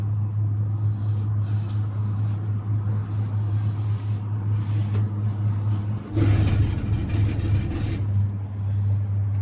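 A London cable car cabin descending: a steady low mechanical hum with airy rushing noise, then a brief louder rumbling stretch near the end as the cabin passes a support, all close and continuous with no speech.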